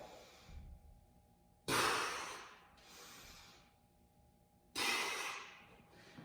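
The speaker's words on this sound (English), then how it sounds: "I'm going to inhale, exhale on the return up" Breathing during mobility exercise with a PVC pipe: two loud, close, sharp exhales, each trailing off, between softer inhales and quiet pauses.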